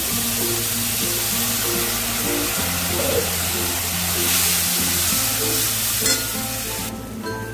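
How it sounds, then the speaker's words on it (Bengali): Spices with a splash of water sautéing in a pan for a vegetarian soya dish, a steady loud sizzle running throughout with a low repeating hum beneath, briefly dropping out near the end. "এই সময় একটুখানি জল দিয়ে দেবো, যাতে মশলাগুলো ভালো করে কষা হয়"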